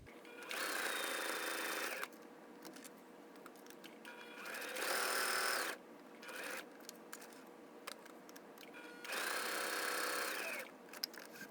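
A sewing machine stitches quilt squares for a nine-patch block in three loud, steady whirring bursts separated by quieter handling pauses, heard up close with no talking.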